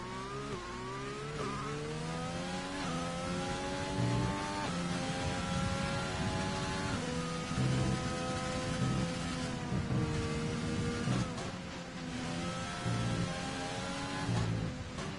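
Onboard race car engine in a sim racing game at a US round of a racing league, droning continuously through a lap with rising and falling revs as the gears shift, close and loud throughout.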